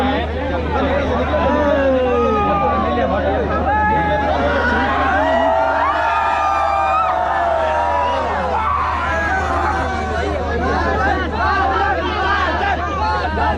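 A crowd packed around a DJ to take photos fills the air with loud overlapping chatter and excited shouts, a constant close babble under a low steady hum.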